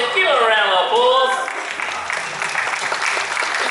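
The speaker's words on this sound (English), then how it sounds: "Give him a round of applause." Audience applause at a tiger show on Dreamworld's Tiger Island, Gold Coast, a broad spread of clapping under a host's voice that carries on after he stops talking.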